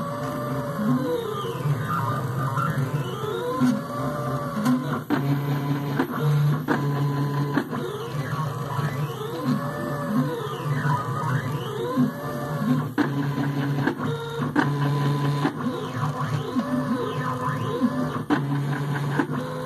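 A homemade DIY CNC router moves at 150 inches per minute, its stepper motors sending out a steady, loud whine with tones that rise and fall in repeating sweeps and short start-stop pulses.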